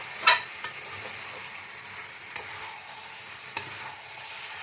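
Spices and chilli for a cabbage curry are stir-fried in a pan: a soft, continuous sizzle broken by a few sharp spatula clinks against the metal.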